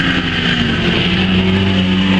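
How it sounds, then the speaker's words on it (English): Stock cars race past at a weekly stock car meeting, a dense loud engine roar with sustained droning tones and steady rising pitch throughout. "They are going for the weekly stock races."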